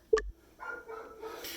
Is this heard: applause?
no